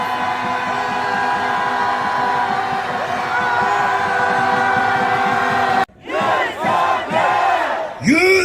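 A large crowd at an outdoor political rally near Seocho Station bellows a sustained collective battle cry, loud and dense. It breaks off briefly, then ragged individual shouts and whoops burst out at close range.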